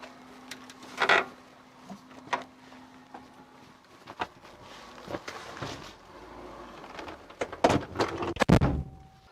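A Shacman F3000 truck cab door is worked through several distinct clunks and rattles, close and moderately loud, with quieter handling noises and a faint hum between the knocks.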